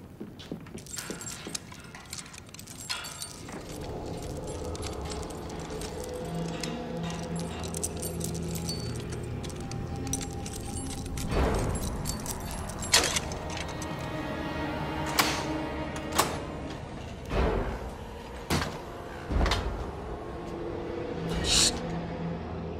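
Keys jangle and clink as a door is unlocked in the Ottoman palace drama Magnificent Century: Kosem. Sharp metallic clicks and clanks repeat for about twenty seconds, close and fairly loud.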